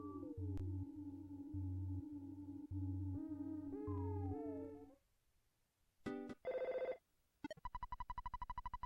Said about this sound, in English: There's a phone call from Apple Kid.